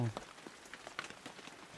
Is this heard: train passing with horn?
no